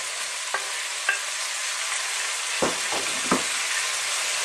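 Chopped onion, garlic and sliced smoked bacon frying with chicken in a stew pot give a steady close sizzle, broken by a few short stirring scrapes and clatters.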